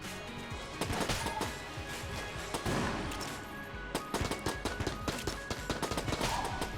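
Rapid bursts of gunfire from the twin-stick shooter game Enter the Gungeon, a dense stream of sharp repeated shots with a few heavier impacts, loud and continuous throughout.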